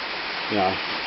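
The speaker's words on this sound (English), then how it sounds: "It's raining so hard." Heavy rain pouring down in a steady broadband hiss, heard outdoors beside a Toro 832 ride-on mower during carburettor work; a short louder swell rises in the middle of the clip.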